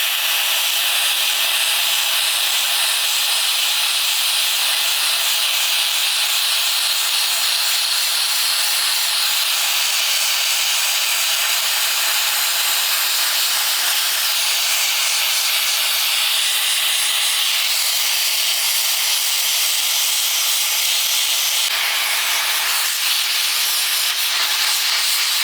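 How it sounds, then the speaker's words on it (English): A cheap plasma cutter blasting rust off an old metal bracket, producing a loud, continuous harsh hiss that runs the whole stretch with slight shifts in tone, no talking. "See if we can't get in here and get some of this rust blasted off this old bracket."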